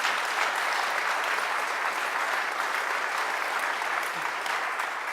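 A large audience applauds two candidates at a meet-the-candidates event, with dense, sustained clapping at a steady level throughout and no pauses.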